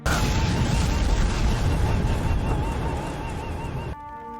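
A bazooka explodes in a film scene, a loud sustained blast with a roaring, rumbling wash that slowly fades before cutting off abruptly.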